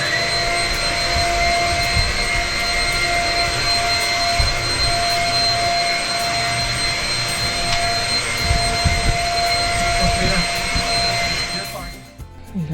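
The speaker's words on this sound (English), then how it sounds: "course, we have to vacuum the rugs before we pull them up." A vacuum cleaner runs steadily over rugs inside an RV, a loud continuous whine with a constant high-pitched tone that holds for about twelve seconds before cutting off near the end.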